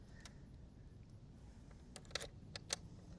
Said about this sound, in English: Got a lot of keys, got 4.